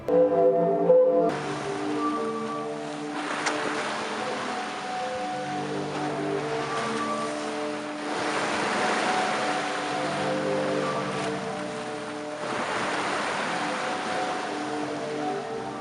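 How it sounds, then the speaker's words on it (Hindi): The Zadar sea organ sounding as waves push air through its pipes, sustained overlapping tones swelling and fading in slow surges with a soft wash of sea beneath, moderately loud and alone. "जैसे ही समुद्री हवाएं इस ऑर्गन में एंटर होती हैं तो ये एक बहुत ही मजे का इंस्ट्रूमेंटल साउंड को प्रोड्यूस करने लगता है"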